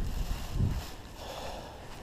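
Wind blows steadily past an outdoor microphone while someone fishes, a broad rushing noise with a brief louder gust near the start and no talking.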